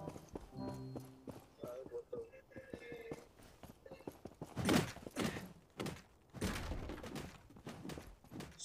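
Horse hooves clip-clop in the Rust-style survival game Project Evo, a run of quick thuds under loud, overlapping chatter from players.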